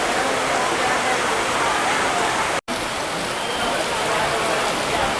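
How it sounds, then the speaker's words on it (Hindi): Heavy, steady downpour hissing across the whole clip at Haridwar railway station, dense and loud, with a brief dropout midway before the rain noise resumes unchanged. "देखिए बारिश बहुत ज़्यादा तेज़ हो रही है"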